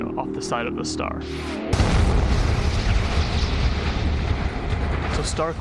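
A loud rumbling blast of a fireball erupting from the side of a magnetar, a neutron star, bursts in after a short stretch of quieter sound and holds as a sustained roar until the end.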